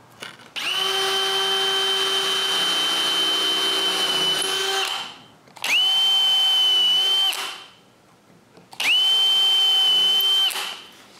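Power drill boring pilot holes in plywood pieces: three steady high whining runs, a long one followed by two shorter ones, each starting and stopping abruptly with quiet gaps between, loud and close.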